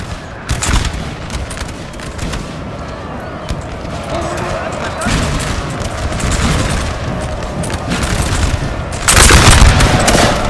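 Musket volleys crackle continuously across a Napoleon Total War multiplayer battle between Danish and Swedish armies, dense and loud throughout, swelling into a heavier burst near the end.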